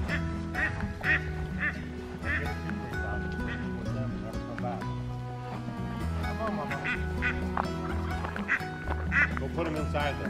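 A mother duck and her newly hatched ducklings on a farm give repeated quacks in short bursts throughout, set against a steady, busy background.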